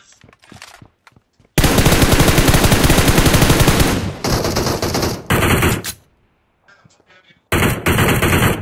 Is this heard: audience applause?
no